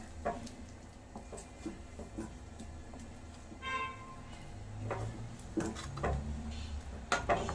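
A spoon stirs semiya kesari in a metal pan, giving intermittent soft scraping and clinks at close range, with no talking.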